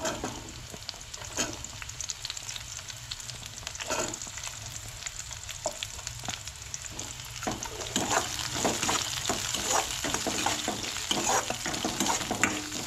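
Onion fries in a pan for a Goan-style crab curry, giving a soft, continuous sizzle broken by scraping stirring strokes that grow a little louder toward the end, with no talking.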